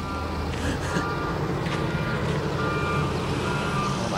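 A loader beeps in reverse with a repeated alarm tone over a loud, constant engine rumble, set amid cement-hauling trucks on a work site.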